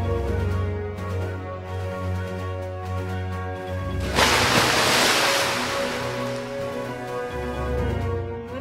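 Water poured out during a kids' Halloween science experiment at home, a rushing, splashing burst in the middle that swells loudly for a few seconds over steady background tones, then fades.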